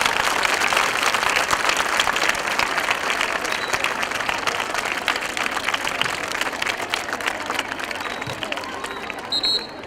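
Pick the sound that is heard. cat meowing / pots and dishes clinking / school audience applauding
school audience applauding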